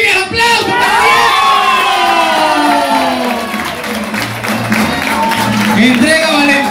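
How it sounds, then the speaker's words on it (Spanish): A lively crowd at a children's singing festival in a Valencia, Venezuela shopping centre cheers loudly for a winner, with excited children's shouts and a little clapping under an amplified voice. "Diego Rodríguez, aplausos para Diego"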